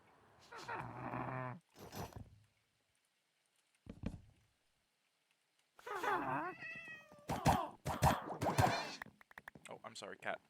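A cat meows several times in close, clear bursts separated by short silences, with a person's voice briefly mixed in among the calls.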